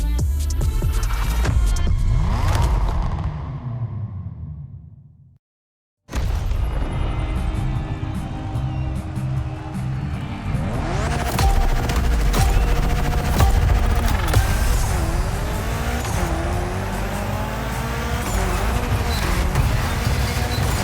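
A Mitsubishi Evo 9 in The Crew Motorfest gymkhana roars loud and continuous, the engine revving and surging with rumbling bursts, cutting out briefly before returning at full intensity.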